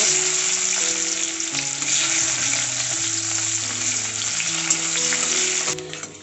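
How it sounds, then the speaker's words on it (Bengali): Onions fry in hot oil, a steady close sizzle filling the whole stretch, while soft background music plays underneath and no one talks. "ওই তেলে এবার পেঁয়াজগুলো ভেজে নেব"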